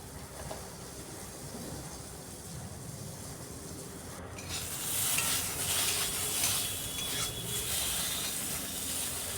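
Potato pieces frying in a pan over a low gas flame and being turned, a steady sizzle that swells louder partway through, joined by faint scraping of the spatula.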